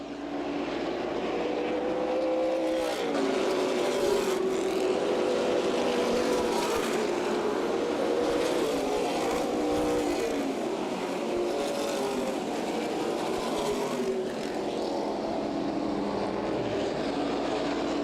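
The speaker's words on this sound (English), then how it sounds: "Van Heitzma closing quickly on the 25 car, Ross Kenseth." Stock cars race at Berlin Raceway in a CRA Super Series event, engines roaring continuously as packs pass close by, with rising and falling whines and a steady loud din.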